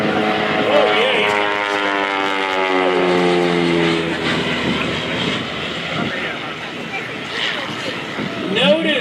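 An aerobatic two-seat airplane performs at the Leesburg Airshow, its engine droning with rising and falling pitch as it passes, loud and fairly close, under continuous announcer commentary over crowd noise.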